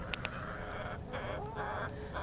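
White Leghorn chickens cluck in a steady, busy mix of fowl calls, with a few short sharper squawks near the start, all fairly close and moderate in level.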